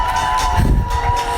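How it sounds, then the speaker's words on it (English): A crowd in New York City cheers for medical workers, a distant swell of cheering and clapping over a steady tonal hum, rising briefly in the middle. "Another round of cheers there"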